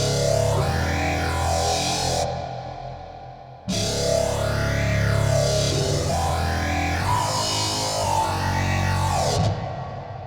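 Synth Growl guitar synth tone from a POD HD Pro processor, loud distorted notes with a sweeping filter that rises and falls in repeated arcs, cut by a brief gap before the sound returns, with no voice.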